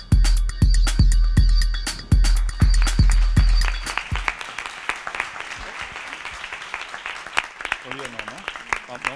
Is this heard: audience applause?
yes